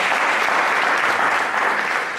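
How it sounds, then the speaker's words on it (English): Evening event audience giving a round of applause, a loud, dense, steady roar of clapping that holds for two seconds and eases slightly at the end. "Can you all give MPAC a round of applause?"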